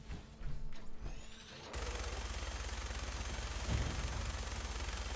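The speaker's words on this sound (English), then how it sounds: "Let's get the minigun out so it's more interesting" A minigun in Fallout 4, used in power armor, fires in a continuous rapid stream that begins abruptly after a quieter stretch and then holds at a loud, steady roar.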